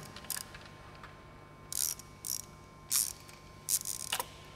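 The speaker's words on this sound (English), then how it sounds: "Now that we've got all the correct bolts installed in the bracket, we can tighten it down." Bolts being tightened on an Edelbrock supercharger bracket and pulley, heard as short bursts of ratcheting clicks, quiet and close, separated by brief pauses over a faint steady hum.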